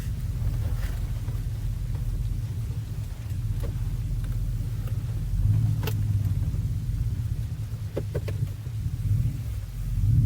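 Low, steady exhaust rumble of a 2015 Ford F-150 5.0 pickup truck with an aftermarket WWP exhaust cruising, with a deep droning tone and a slight swell near the end, plus faint wind noise.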